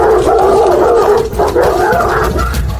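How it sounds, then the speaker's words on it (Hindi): Tibetan mastiff dogs give loud, close, deep barks and howling yelps in quick succession, filling the short stretch with no talking. "पीछे के आंगन में जा उन तिब्बती मास्टिफों को बाहर निकाल।"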